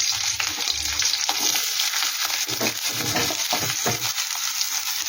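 Finely chopped onions frying in a wok give a close, steady sizzle with stirring scrapes and light clinks throughout; no one talks.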